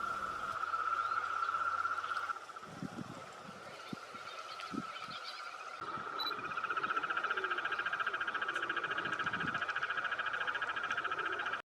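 Many toads croak together at a lagoon, a steady loud trilling chorus that continues throughout, with a second overlapping trill joining partway and faint background noise.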